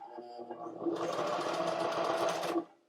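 A sewing machine stitches ottoman upholstery fabric: after a quiet start it kicks into a steady, loud mechanical whir for about a second and a half, then stops abruptly.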